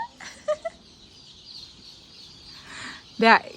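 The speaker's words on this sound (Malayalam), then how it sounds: "അങ്ങനെ ദേ നമ്മുടെ കോഴിക്കുഞ്ഞുങ്ങൾ വന്നുകൊണ്ടിരിക്കുന്നു" Chicken chicks make a couple of brief, soft peeps early on, then one louder, sharper chirping call near the end, over a quiet outdoor background.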